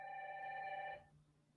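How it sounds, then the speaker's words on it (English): A phone rings once over a Bluetooth connection, a brief electronic ringtone tone that stops after about a second, quiet and alone. "my phone's ringing"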